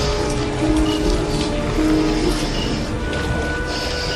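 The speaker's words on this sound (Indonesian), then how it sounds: "Hari hujan lah." Steady rain falls without a break, a dense hiss of drops that holds at the same loudness throughout.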